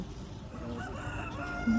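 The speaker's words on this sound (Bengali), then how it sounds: "মুরগি ডাকছে, সবাই তো ঘুমাচ্ছে।" A rooster crows at dawn in a coastal Gujarat town, heard as a faint, distant call with no one speaking nearby.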